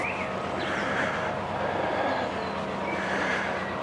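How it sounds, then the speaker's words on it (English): A train rumbles past at a distance with a steady mechanical roar and occasional faint squeals and clacks, no voices. "is that the train limbering up"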